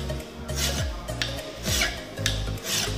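A hand file rasps across a metal workpiece in repeated strokes, a steady back-and-forth rhythm of rough scraping. It sounds close and moderately loud, with no talk.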